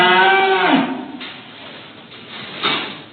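A cow lets out one low, drawn-out moo close by, fading into a quieter rumble with soft clatter at the end.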